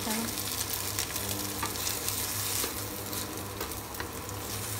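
An omelette of locust flowers and egg fries in a non-stick pan with a continuous close sizzle and hiss, dense and even throughout, with a few faint clicks and no speech.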